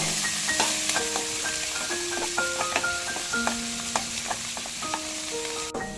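Onions sizzle steadily in a pan over medium heat while being stirred for mutton keema, with a bright continuous frying hiss and scattered scraping knocks of the utensil against the pan, no voices.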